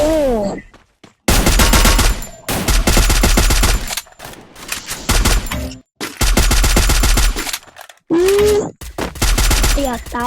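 Loud, dense bursts of automatic gunfire in the video game Free Fire, several long rattling volleys separated by brief pauses, with a voice speaking between and over the shots.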